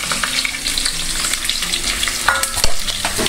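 Sliced large onions and green chilies sautéing in a hot pan, a loud steady sizzle with stirring scrapes and a sharper clatter near the end, no talking.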